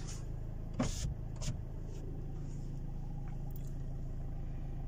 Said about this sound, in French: Bien sûr j'ai les vitres, j'ai peur que ça fasse un peu le bruit.